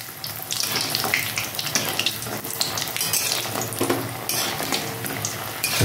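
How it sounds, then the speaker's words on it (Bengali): Bori, lentil dumplings made from biuli dal, frying in hot oil for a Bengali fish curry, giving a steady hissing sizzle close by with no talk. "আমি প্রথমে বড়িটা ভেজে নেবো, কয়েকটা বড়ি আমি ভেজে নেব।"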